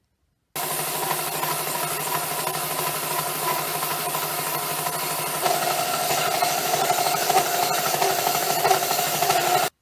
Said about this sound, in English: Now I'm going to sand this edge down with the belt sander so it's nice and flat and smooth.